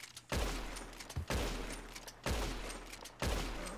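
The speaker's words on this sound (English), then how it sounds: "Again, we're gonna shoot him from the back." Gunfire from the video game Red Dead Redemption 2 comes as four heavy shots at about one-second intervals. Each shot booms and then fades into a long tail, and the shots are heard alone without speech.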